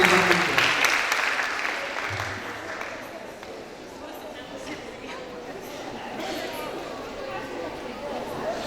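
Applause from an audience at a university lecture welcoming a faculty vice-dean, a dense crackle of many hands clapping that swells at the start, dips, then carries on steadily with some crowd murmur.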